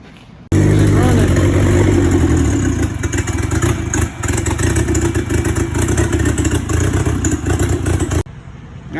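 A turbocharged Honda Civic with a B20 VTEC engine runs loud and steady for about eight seconds, a dense close engine roar with clattery texture that cuts off sharply, leaving quieter background noise.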